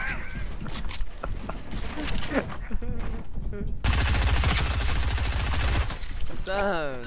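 SMG fire in a video game sounds as a dense two-second burst of rapid automatic shots, loud and close. Other game noises come before and after it, and people talk during the clip.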